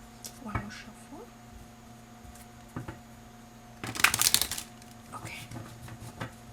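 Tarot cards are shuffled in one short, crisp riffling burst, close and moderately loud, with quiet room sound and faint handling noises around it.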